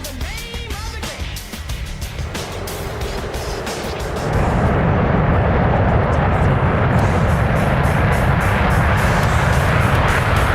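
F-15E Strike Eagle jet in a flight simulator taking off and climbing, its engine roar swelling into a loud, steady, broad rumble that continues to the end.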